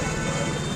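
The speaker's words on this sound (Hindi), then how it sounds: "और देख सकते हैं सेल्फ मारने पर बाइक की आवाज़ कैसी होगी।" A motorcycle's electric self-starter pressed while faulty, giving a loud, steady mechanical whir with a rough, buzzing undertone that lasts under a second.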